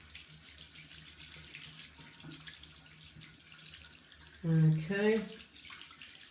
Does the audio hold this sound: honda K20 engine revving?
no